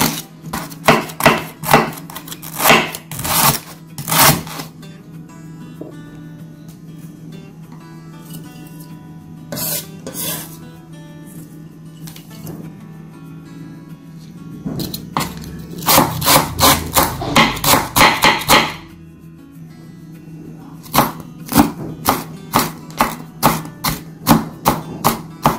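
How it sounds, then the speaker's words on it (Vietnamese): Knife chopping lemongrass on a cutting board for a Vietnamese chicken stir-fry with lemongrass and chili, coming in bursts of rapid, close, crisp strikes with short pauses between them. "Bây giờ thì mình sẽ xắt phần xả này đi."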